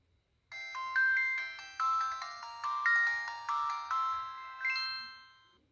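An LG mobile phone plays a bright melodic ringtone through its small speaker, a short repeating chime phrase at fairly modest volume in a quiet room.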